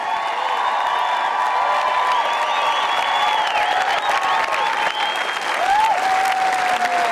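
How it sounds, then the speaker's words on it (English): Sustained crowd applause at the 2021 Solheim Cup golf closing ceremony, a dense, steady wash of clapping with scattered whistles and cheers running loud and unbroken throughout. "One more round of applause for the U.S."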